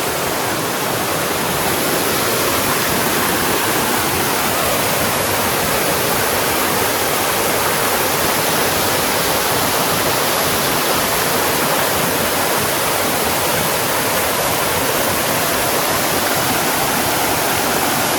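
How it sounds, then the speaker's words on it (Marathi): Water cascades steadily at a secret waterfall near Sai Ghat in Rishikesh, a loud, continuous broadband rush heard up close with no voices. "आता आपण कुठलं सिक्रेट वॉटरफॉल जाऊ."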